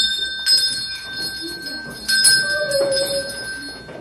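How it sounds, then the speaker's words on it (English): A small hand bell rings a few times, bright metallic chimes that ring out and fade between strikes, close and clear. "With me here, I have a bell."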